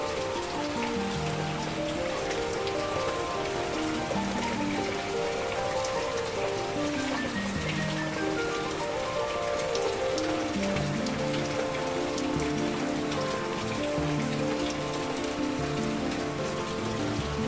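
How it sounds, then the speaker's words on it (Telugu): Steady rain falls through a rainy-season evening, a dense, even hiss of drops on surfaces that continues without pause for the whole stretch, close and fairly loud, with no voices. "నిన్న రాత్రి నుంచి పడుతుందండి వాన."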